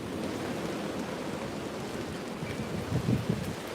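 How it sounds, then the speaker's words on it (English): Gusty wind rushes steadily through garden trees as a continuous broadband roar, with buffeting noise on the microphone and a slight surge near the end, and no voices. "You see the wind blowing?"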